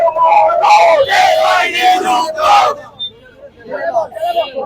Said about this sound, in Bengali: স্লোগান দিচ্ছে।